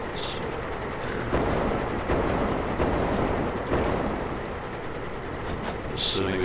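Train running on rails in the video game Satisfactory, a heavy, continuous rolling rumble that swells in several surges with brief higher hissing accents, close and steady throughout.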